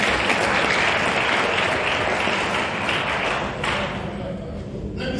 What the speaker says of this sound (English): Please, a round of applause for your Vice Chancellor.